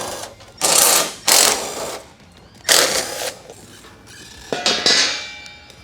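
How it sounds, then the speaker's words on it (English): Ratchet with a 7/16 socket backing bolts out of a Lightning floor scraper side panel, several short bursts of rapid metallic clicking separated by pauses, close and fairly loud, with no talking. "we're going to use a 7/16 socket and remove the bolts out of this side panel"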